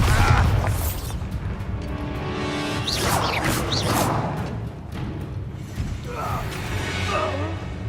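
Bombarda blasting spell cast in the video game Hogwarts Legacy: a booming impact with crashing, creaking debris and whooshes, followed by further rumbling clatter, close and loud.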